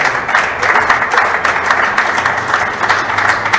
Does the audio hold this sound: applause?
yes